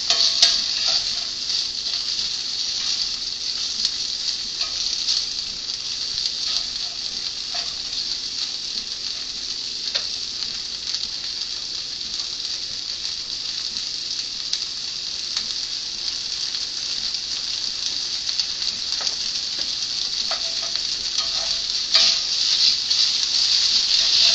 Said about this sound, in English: That's how stir frying works.